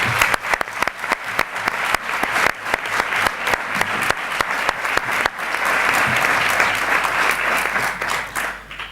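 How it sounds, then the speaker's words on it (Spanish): An audience applauds at the launch of a weekly newspaper. Sharp individual claps at first build into loud, sustained clapping from a full room. "Un aplauso."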